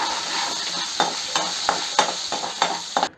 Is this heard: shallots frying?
yes